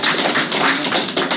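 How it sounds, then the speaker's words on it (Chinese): Audience applause at a talk or seminar, a dense, continuous patter of many hands clapping at steady loudness throughout the short stretch, with no voices over it. "掌声。"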